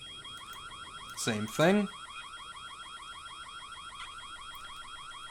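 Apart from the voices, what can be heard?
alarm sound in video game White Day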